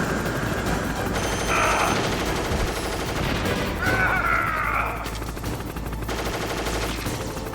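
Metal Gear Solid video game gunfire crackles in loud, steady bursts against a constant noisy game backdrop, with a few brighter metallic flares standing out over the din.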